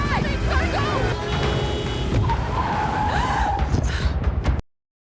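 A stolen van speeds off, its tires skidding and squealing loudly as the engine roars and it weaves past people and cars, before the sound cuts off abruptly.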